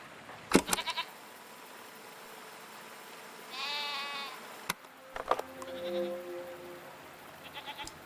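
Goats in the video game Season give a few short wavering bleats, close and fairly clear, spaced apart over a quiet ambient background with a couple of sharp clicks and brief tonal cues between them.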